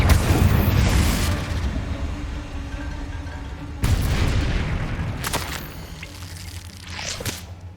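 Confringo blasting-spell explosions in the Hogwarts Legacy video game: a heavy boom opens, and further blasts follow a few seconds apart, each fading into a low rumble.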